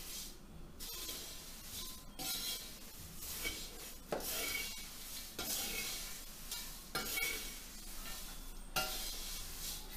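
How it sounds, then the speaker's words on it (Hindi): Food is stirred in a hot kadhai with the flame off, a spoon scraping and rubbing against the pan bottom in repeated strokes, with a soft residual sizzle underneath, close up and without talk. "फ्लेम बंद है, मैं इसलिए इसको थोड़ा सा मिक्स करूँ"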